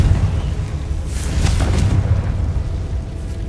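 A Confringo fire spell blasts in Hogwarts Legacy, a loud rumbling explosion with deep low-end boom and a crackling burst that sustains for several seconds.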